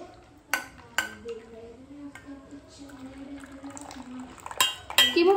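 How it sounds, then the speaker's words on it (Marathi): Tea being strained in a home kitchen, with sharp clinks of dishes and utensils at the start and end and quieter handling between, while a voice murmurs in the background. "आता मी पटकन चहा गाळून घेते."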